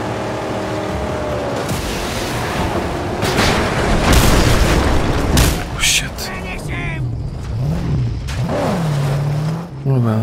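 Mad Max video game car crash: a loud head-on collision with booming explosion bursts over roaring engines, followed by revving and rumbling vehicle noise, with a voice speaking over parts of it.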